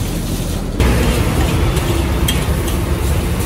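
Nasi goreng fries in a wok at a roadside stall, giving a steady, loud sizzle with scraping and stirring that runs through the whole stretch.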